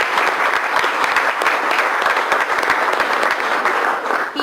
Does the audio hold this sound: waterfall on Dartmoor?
no